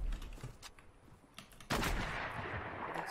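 Gunfire in a video game arena match: bursts of shots, sparse and scattered at first, then a loud, dense volley that continues steadily to the end.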